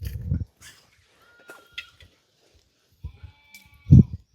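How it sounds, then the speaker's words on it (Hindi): Sheep bleat near a Himalayan shepherd's camp in the early morning, with two loud, wavering calls at the start and end and quieter animal and ambient sounds between them. "भेड़ों की आवाज़ आ रही है साथ साथ।"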